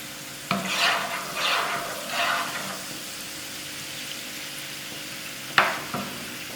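Garlic browned in a pan, then honey added, sizzles and frying hisses while a utensil stirs in several bursts, close and moderately loud, with no talking.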